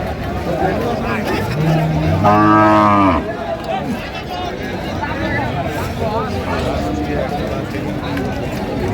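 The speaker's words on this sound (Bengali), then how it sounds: "সস্তা গরু, গরু সস্তা ভাই।" Cows mooing at a busy cattle market where lean, bony dairy cows are traded, one long loud moo standing out over constant crowd chatter and bargaining voices.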